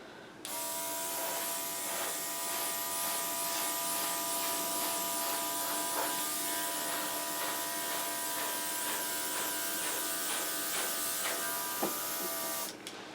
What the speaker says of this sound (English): try with my little battery operated air compressor